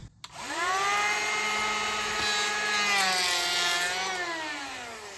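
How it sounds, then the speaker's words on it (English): Power planer set to its lowest depth, cutting along the edge of a slab door: a loud, steady high-pitched whine that rises after a sharp start and holds for several seconds as the blade shaves the wood, with no talk over it. "I have the planer on the lowest setting."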